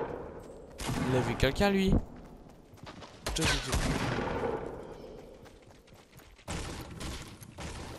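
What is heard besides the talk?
pistol gunfire in Fortnite video game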